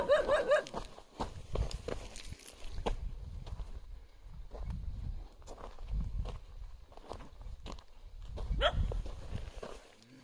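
Dogs bark from a hill at a distance, short faint barks coming near the start and again later over close footsteps and rustling outdoors.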